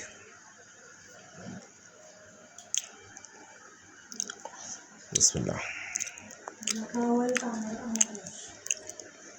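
Someone eats boiled okra, with soft wet chewing and squishy mouth sounds close up, a few clicks and brief speech-like bursts near the end.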